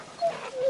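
A large dog whimpering in the video game Final Fantasy 16, a short soft whine with a thin rising tone near the start and another at the end, close and fairly quiet with no talking.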